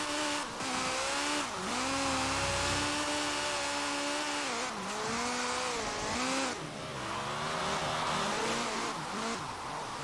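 A loud, raspy car engine in Forza Horizon 4 drones and revs, its pitch wavering up and down through repeated throttle blips and lifts, heard close with no speech over it.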